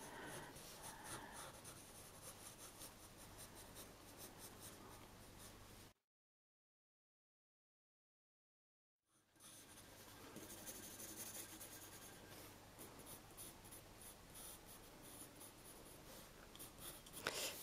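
A pencil colours a drawing of a poplar tree on paper, giving a steady, close scratchy rubbing that runs continuously, stops for a few seconds of silence, then resumes at the same level.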